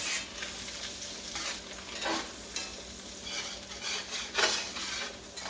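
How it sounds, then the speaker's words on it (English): A spoon stirs homemade potato soup in a pot, making quiet, repeated scraping sweeps against the pot over a soft simmering hiss, with no one talking. "You want to keep stirring this."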